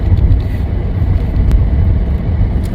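A lorry passes on a road nearby, giving a steady loud low rumble of engine and tyres that fills the short stretch without a break.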